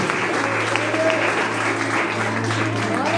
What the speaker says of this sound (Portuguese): Pode louvar a Deus com as palmas, que é alegre para Deus